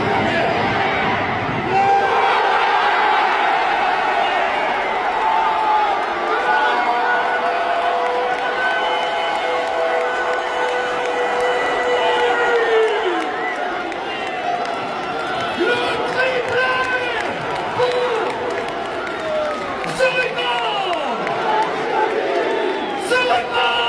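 Dense stadium crowd of football supporters roaring and chanting in celebration after a third goal, a sustained loud wall of voices with rising shouts throughout.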